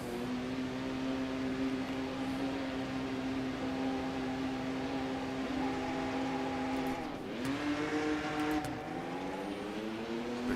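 A race car engine in the Rennsport racing game howls steadily and climbs in pitch, then drops sharply on an upshift before rising again, loud and constant throughout.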